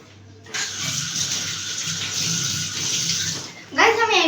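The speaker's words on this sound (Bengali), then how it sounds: "হাত ধুয়ে নেই।" Hands being washed under running tap water: a steady, close splashing hiss starts abruptly and runs for about three seconds, then stops as a voice begins speaking.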